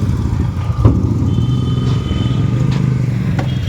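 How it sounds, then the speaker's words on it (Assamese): Motorcycles ride off a river ferry crossing the Brahmaputra one after another, with engines rumbling and revving at close range over a steady background drone and a few clanks. "বাইকবোৰ এটা এটাকৈ ওলাই গৈ থাকে"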